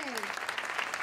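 Audience applause for a singer after a live jam session performance, a dense steady patter of clapping, with the tail of a sung note fading out at the start.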